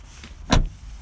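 A Skoda Fabia power window motor whirs briefly and loudly, a short burst standing out against a quiet car interior.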